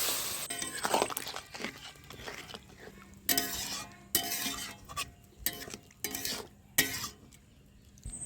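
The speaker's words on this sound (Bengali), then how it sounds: "এবার ডিম আর আলুগুলোকে মশলার সঙ্গে ভালোভাবে মিশিয়ে নেব।" Eggs and potatoes being stirred with spices for a Bengali egg curry, a spoon scraping and clinking against the pot in repeated bursts over a faint sizzle, fairly close, with no talking.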